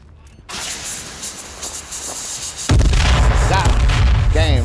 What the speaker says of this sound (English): Blew up by the grenade.